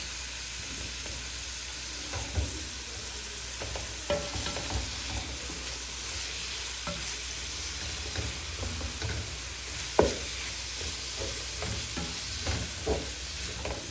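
Carrots sizzle and fry in oil for a Kenyan beef pilau while a spoon stirs them, giving a steady loud hiss broken by scattered scraping knocks with no voices.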